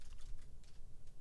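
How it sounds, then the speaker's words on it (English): A few soft, rapid keystrokes on a computer keyboard, tapped out while entering a word in Adobe XD, close and quiet over a low background hum. "I'm going to left click here and just type in mountains."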